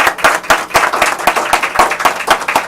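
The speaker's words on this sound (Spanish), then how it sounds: "pero yo pido que le demos un aplauso." A small audience claps at a press gathering, producing a brief burst of distinct, fairly loud hand claps in an uneven rhythm, close by and with no talking.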